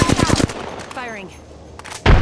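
Gunfire in the Apex Legends battle-royale game: a rapid burst of shots at the start, then quieter game effects, and another loud burst of fire at the very end.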